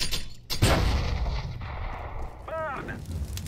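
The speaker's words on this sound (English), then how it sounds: "I'm throwing a grenade." Grenade explosion in Counter-Strike on the Mirage map: one loud broadband blast near the start, followed by a lingering rumble and brief game effects, with no talk.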